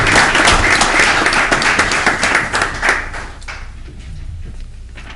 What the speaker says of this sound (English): So maybe we should have a round of applause for the girls.